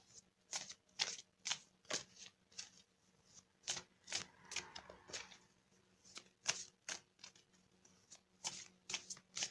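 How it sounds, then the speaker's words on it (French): Tarot cards are shuffled and drawn in quick, irregular bursts of crisp riffling and flicking, close and fairly quiet, with no speech. "on va tirer une carte d'énergie de guérison"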